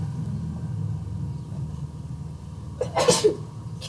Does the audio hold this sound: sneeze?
yes